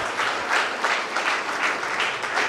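A crowd at a National Mathematics Day inter-school maths competition in Karad gives a round of applause. The clapping is dense, close and fairly loud, pulsing in quick uneven waves throughout, with no one speaking over it.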